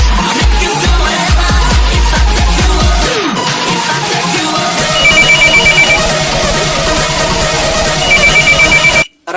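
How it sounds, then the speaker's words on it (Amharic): A house telephone rings loudly and repeatedly, its bell-like electronic ring continuing through the whole stretch with heavy thumping beats underneath, then cutting off abruptly at the end. "ቤቱን ስልክ አንሱት ቤቱን ስልክ"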